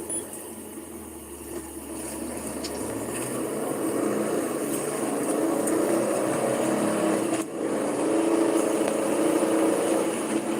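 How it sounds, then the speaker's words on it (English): Engines drone and rise steadily in pitch, a continuous motor roar that swells louder as it goes on, with no voices. "You can hear cars revving up."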